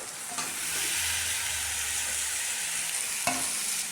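Chicken pieces frying and being stirred through a cooked-down spice paste for a home chicken curry: a steady close sizzle with scraping stir strokes and a couple of sharper clacks of the spoon against the pan.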